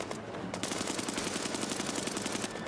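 Rapid machine-gun fire from a weapon in the mobile war game Brothers In Arms 3, a dense continuous burst of shots running the whole time against a busy battle background, with no voices.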